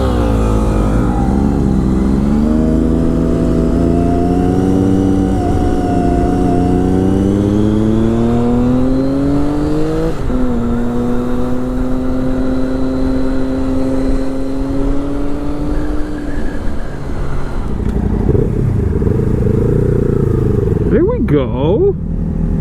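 A Triumph Daytona 675 sport motorcycle pulls hard through first gear on a street in Salem, Oregon, its engine note climbing loud and continuous up to a gear change, with wind rush and a rider's voice over it.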